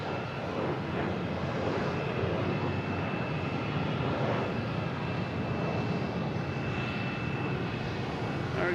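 An American Eagle Embraer E175 regional jet taking off at Boston Logan International Airport, a loud, steady engine roar and rushing drone held throughout, with a faint whine above it and no voices.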